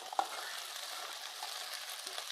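Chopped onion stalks sauté quietly in a pan, a soft, even sizzle with a faint tap at the start.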